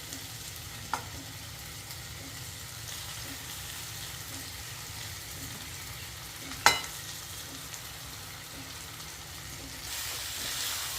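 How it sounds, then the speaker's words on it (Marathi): Boiled noodles stir-fried with soy sauce and green chili sauce for veg Hakka noodles, a steady low sizzle with a few sharp clinks of a utensil, fairly quiet and close with no talking. "आता आपण बॉईल केलेले नूडल्स इथे ॲड करणार आहोत आणि छान परतवून घेणार आहोत"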